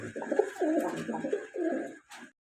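Fancy pigeons at a market cooing close by, a series of soft, throaty rolling coos in a steady rhythm with brief pauses between phrases.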